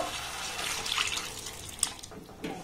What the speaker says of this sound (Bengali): এবার দেখুন যে মুগ ডালটাকে আমি ভিজিয়ে রেখেছিলাম জল সমেত, সেটা এখানে আমি দিয়ে দেব।